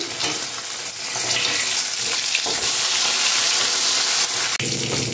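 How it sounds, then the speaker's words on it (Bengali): Pholui fish frying in hot oil in a home kitchen, giving a steady, dense sizzle that crackles continuously throughout, close and fairly loud, with no talking. "আর চলো এখন আমি মাছ এখন একটু ভেজে নিচ্ছি।"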